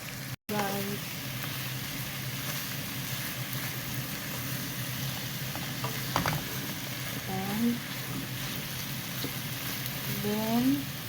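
Garlic, onion and ginger are stirred in a hot pan for chicken adobo, making a continuous sizzle with light scraping and occasional faint voices in the background.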